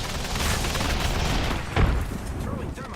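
A frag grenade explosion bursts amid rumbling gunfire in an online battle royale shooter game, a dense continuous barrage with one sharp blast near the middle, mixed with game voice chatter.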